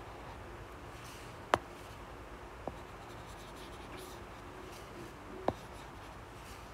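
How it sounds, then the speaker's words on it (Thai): Pen or pencil writing by hand on paper, faint continuous scratching with a few sharp taps from the pen, in a quiet room with no talking. "เขียนใหม่อีกนิดนึงค่ะ"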